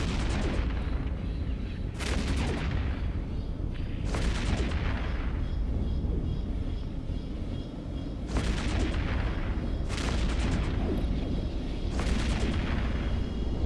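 Repeated heavy booming blasts from warships in EVE Echoes pounding a tower, loud bursts every couple of seconds over a constant rumbling space-combat din.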